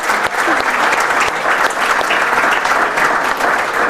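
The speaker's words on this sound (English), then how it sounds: "So let's give Mary a round of applause." Audience at a 4-H fashion revue applauding, a loud, dense and sustained wash of clapping with no break, filling the whole few seconds.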